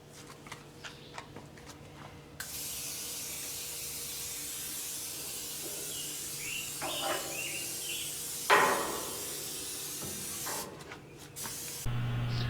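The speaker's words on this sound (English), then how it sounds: "me spraying down the inside of this vertical smoker with the canola oil" Canola oil sprayed inside a vertical smoker in long continuous hissing bursts, close and steady, with a few metallic knocks.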